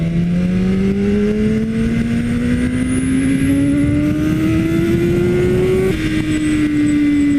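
A BMW S1000RR motorcycle engine revs loudly and close, its pitch climbing steadily over several seconds before dropping slightly and holding, with no talking.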